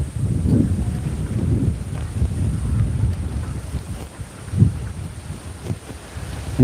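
Steady wind rushes across open village fields in rural Bangladesh on a morning outing, a continuous low rumble of buffeting gusts against the microphone with a brief stronger burst midway and no voices.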